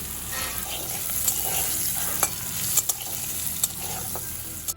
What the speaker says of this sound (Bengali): এই আলুগুলো আমি ভালো করে ভেজে নেব